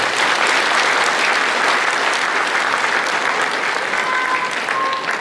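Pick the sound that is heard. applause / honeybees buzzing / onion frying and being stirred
applause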